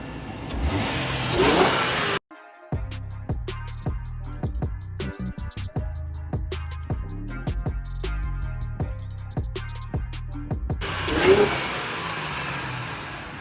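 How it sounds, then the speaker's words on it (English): A car engine rumbles, then revs repeatedly in quick sharp bursts, each rise and fall of pitch close and loud, before returning to idle. "The next thing I like to do is give it a nice little rev."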